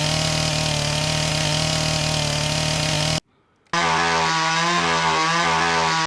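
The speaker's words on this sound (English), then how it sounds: "That's the original Doom chainsaw sound effect." The original Doom chainsaw sound effect: a loud, buzzing engine drone that runs for about three seconds, breaks off briefly into near silence, then returns with a pulsing, revving tone until the end.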